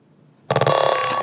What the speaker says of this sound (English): the buzzer is on